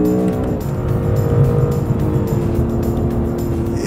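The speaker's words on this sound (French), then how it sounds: "On est aussi plutôt satisfait par la sonorité de ce V6 turbo." A 2016 Honda NSX's V6 turbo engine revving hard in manual mode from inside the car, a loud, continuous strained drone with steady road and tire noise beneath it and no talking.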